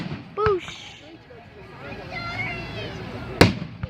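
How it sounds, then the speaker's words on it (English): Fireworks burst at an outdoor show, with a sharp pop near the start and a loud crack-boom later on, amid crowd noise and people talking throughout. "it's pretty cool, like watching fireworks"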